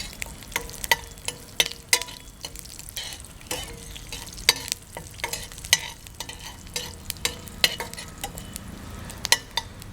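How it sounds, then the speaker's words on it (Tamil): Garlic, fenugreek and curry leaves sizzle in hot oil in a pan, with frequent sharp clinks of a spoon stirring against the metal over a steady frying hiss. "ஒரு 3லேருந்து 4 பல்லு பூண்டு போட்டுக்கங்க. பூண்டு போட்டு நல்லா கொஞ்சம் வதக்கிங்க."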